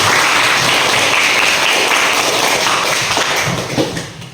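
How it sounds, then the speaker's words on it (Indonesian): A classroom of children clapping for a classmate, a loud, dense burst of applause that fades out toward the end. "Berikan aplaus kepada"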